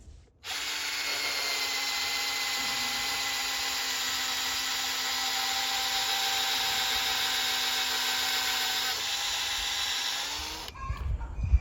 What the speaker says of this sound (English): I finished drilling those holes.